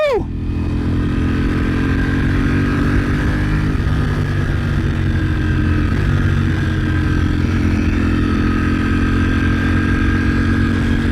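A Ducati Panigale V4R sport motorcycle engine roars steadily at high revs while accelerating, a sustained close-up drone with slight pitch shifts as it pulls.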